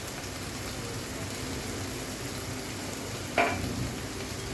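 Chicken giblets fry in a pan with turmeric powder, a soft steady sizzle running throughout with one brief sharper clink of a utensil near the end; no talking.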